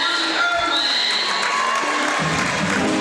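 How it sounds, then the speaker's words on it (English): A crowd at a high school boys basketball game cheers, shouts and claps loudly and continuously before tip-off in a gym, with voices mixed through the roar. "Crowd's getting excited."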